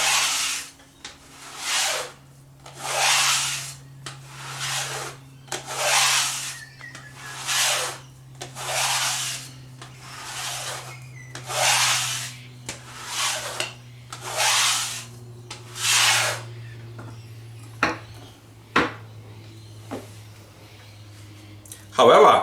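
A knife drawn across a hanging leather strop, about eleven slow, evenly spaced rubbing strokes, close and clear, then a few faint clicks and taps near the end, with a low steady hum underneath.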